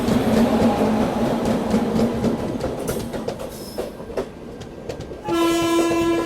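A special train rumbles and clatters past a stopped train, overtaking it up close, with a loud steady horn blaring over the rolling noise near the end.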